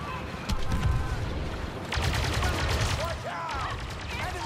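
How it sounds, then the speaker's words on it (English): Sustained blaster cover fire in a Star Wars Battlefront 2 campaign battle, rapid bursts of shots crackling in clusters with shouted voices mixed in, loud and busy. "Stay here and lay down cover fire."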